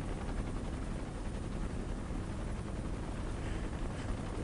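Helicopter rotor noise from the video game Ghost Recon: Future Soldier fills the whole stretch as a dense, steady, loud roar without pauses.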